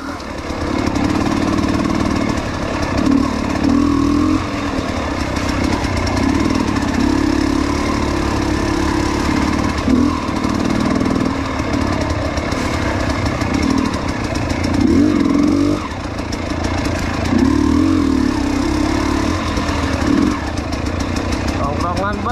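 Motorcycle engine running close by, a rough revving drone that rises and falls in repeated throttle bursts, with people talking over it in a casual hangout spot.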